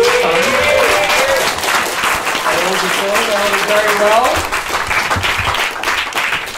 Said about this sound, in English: Round of applause for all the acts you saw